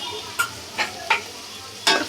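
Ground chili powder, garam masala and coriander powder frying in a pan, stirred with a spoon that scrapes four distinct times over a steady low sizzle.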